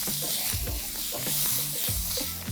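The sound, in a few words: onion added to hot wok with meatballs, sizzling stir-fry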